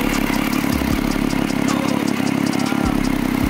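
A Hayabusa superbike engine runs loud and close at a car launch event, with a constant rattling clatter and a few deep thumps, holding an even, busy tone throughout.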